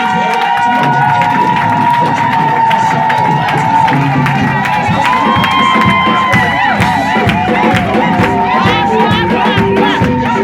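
A church congregation cheers and acclaims during a worship service, a loud, dense crowd roar of many voices shouting and calling out continuously, with claps and raised voices layered throughout.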